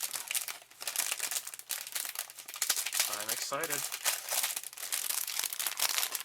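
Crinkly plastic packaging of a Bandai 1:72 Star Wars A-Wing model kit rustles and tears in close bursts while a person talks briefly over it.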